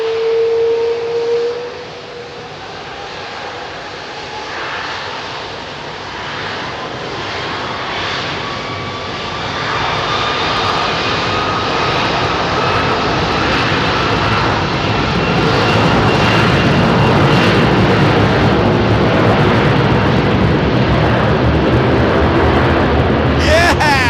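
Airbus A380 airliners, including British Airways A380s, departing Heathrow; a loud jet roar swells and intensifies over many seconds into a heavy, sustained rumble, with voices briefly audible early on.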